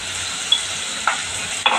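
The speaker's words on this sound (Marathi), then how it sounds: "कांदा चांगला परतून घेणार आहे. थोडी त्याच्यावर हळद घालणार आहे आणि किंचित मीठ घालणार आहे" Onion sautéing in a pan with a pinch of turmeric and salt, sizzling softly and steadily, close by, with a few sharp scrapes of a spoon stirring it.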